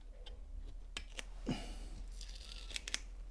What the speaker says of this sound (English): Now I just want to pull the tape off our horizon line